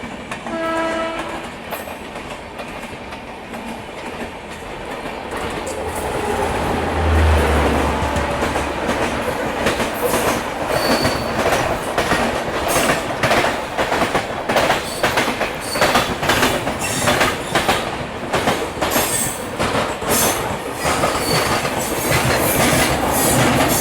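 A Humsafar Express running alongside and overtaking, heard from inside a Garib Rath 3rd AC economy coach: a steady loud rumble with rhythmic clickety-clack and wheel noise that grows over time, and a brief horn near the start.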